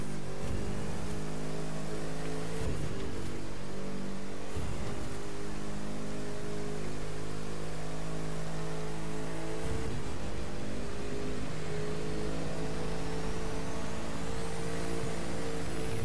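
A Bugatti La Voiture Noire in The Crew 2 racing game accelerating toward top speed, a steady loud engine drone with stepped gear-shift breaks, heard alone with no talk.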